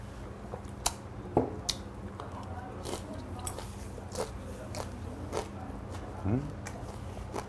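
Close crunching and biting bursts from eating a shrimp head during a drinking mukbang at a restaurant in Yeosu, with a few sharp crackles over low background chatter and clatter.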